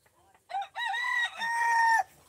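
A rooster among fighting chickens being carried off in bags lets out a single loud, close, drawn-out crow lasting about a second and a half. A quiet lead-in comes before it.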